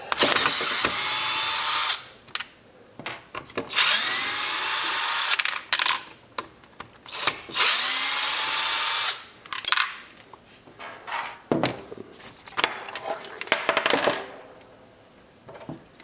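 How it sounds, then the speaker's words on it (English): A power drill whirs in three long bursts, backing four Phillips head screws out of a 2024+ Yamaha MT-09 rear fender, with clicks and rattles of the screws and parts between runs. "Let's start by removing these 4 Phillips head screws"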